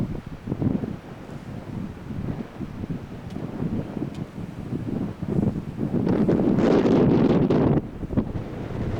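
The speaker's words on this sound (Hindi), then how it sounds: "बहुत तेज हवा चल रही है यहाँ पे।" Strong mountain wind batters the microphone on the Kailash Mansarovar pilgrimage route, a steady roar with gusts that swell louder near the end, no voices over it.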